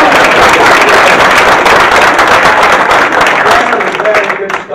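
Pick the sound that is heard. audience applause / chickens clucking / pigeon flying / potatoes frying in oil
audience applause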